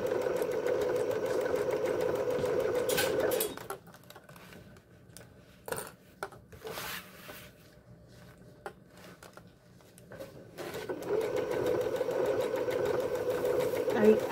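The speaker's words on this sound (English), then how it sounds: "as I work and sew" A sewing machine stitches fabric in two steady whirring runs, one at the start and one at the end, with a quieter gap of small clicks and handling noises between them.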